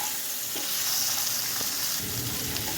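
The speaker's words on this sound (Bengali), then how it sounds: "একটু হালকা করেই ভেজে নেব আমি এখানে ভাজছি" Continuous oily sizzling of paneer frying in a pan, steady and close, with faint stirring scrapes.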